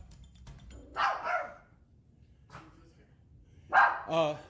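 Dog barking close by, two pairs of loud, sharp barks separated by a quiet pause, with a faint bark in between and low background noise.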